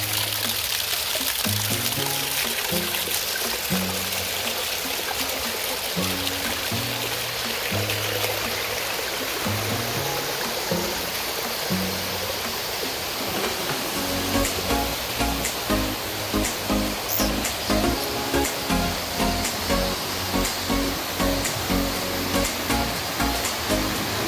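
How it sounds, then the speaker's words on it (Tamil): Spring water flowing down from a mountain in a gorge, a steady broadband rush of running water, close and loud, with a rhythmic splashing pulse growing stronger in the second half. "மலையிலிருந்து வர ஊற்று தண்ணி"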